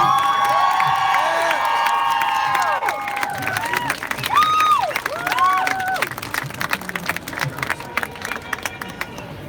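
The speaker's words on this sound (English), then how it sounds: "Another round of applause for Victor and Tommaso, please" Crowd applause and cheering at a March for Our Lives rally against gun violence in Paris, a dense burst of clapping with whoops and shouts, fading to scattered claps while a voice carries over it.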